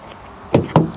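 Mazda CX-5 keyless entry locking the doors: two quick, close mechanical clunks about a quarter second apart, standing out from a quiet background with no talk.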